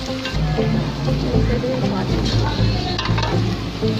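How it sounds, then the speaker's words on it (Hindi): Ginger garlic paste and onions fry in a pan, making a steady, dense sizzle with the scrape of stirring running through it. The sound is close and continuous. "ये हमारा अदरक लहसुन का पेस्ट और प्याज अच्छी तरह से भून चुके हैं।"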